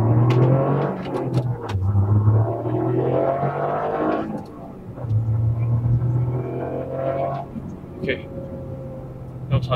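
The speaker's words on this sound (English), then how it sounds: "let's do a first gear pull" A modified Toyota GR Yaris accelerates hard through first gear, the engine note rising in repeated sweeps with brief gear-change dips, loud and close from inside the cabin, with some talking mixed in.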